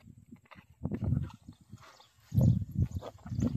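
Cattle walk past nearby on the way to graze, their hooves making uneven, muffled thuds and clops on the ground in irregular clusters, fairly loud and close.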